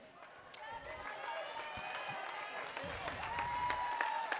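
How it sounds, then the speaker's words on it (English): High school basketball crowd in a gym applauds a Bear Lake player fouling out late in the fourth quarter against Rich, a steady moderate clapping wash with scattered shouts, sneaker squeaks and a commentator talking over it. "He gets some applause from his fans and the folks from Bear Lake."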